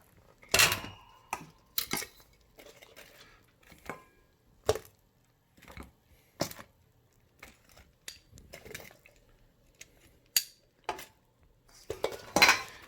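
Twice-fried Korean-style chicken wings clatter into a bowl, with a series of close, sharp clinks and knocks of utensils and dishware spaced irregularly across the stretch, no talking.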